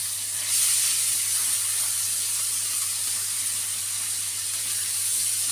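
Spiced meat sizzles in a hot pan with a steady, even hiss that holds loud and close throughout, with no distinct stirring strokes standing out.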